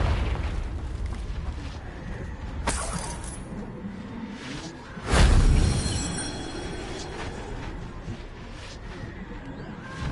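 A Confringo fire spell bursts with a loud boom midway through Hogwarts Legacy gameplay on PS4, rising over a steady ambient game bed, with a smaller earlier pop and no talk.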